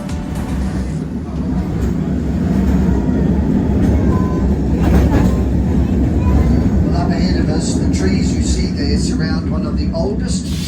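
A vintage Auckland tram runs along its tramway, turning toward a stop, with a steady low rumble and rolling wheel noise throughout, a few squeals and rattles rising near the end; a voice talks over it.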